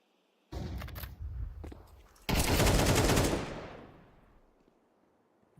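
MP9 submachine gun fire in Counter-Strike: a short rattling burst, then a second louder sustained burst that trails off into a fading echo, with no talk.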